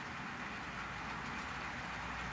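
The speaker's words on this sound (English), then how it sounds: "Here's a simulated train approaching the Cantera Loop." A simulated freight train, including a tank car of metam sodium, rolls toward the Cantera Loop curve, a faint, steady rail rumble and rolling noise throughout with no voices.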